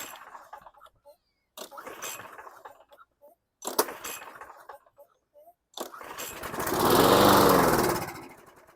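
Old 2013 Snapper lawn mower with contaminated fuel or a plugged carb, coughing through several short failed start attempts before catching and running loudly for a couple of seconds, then dying.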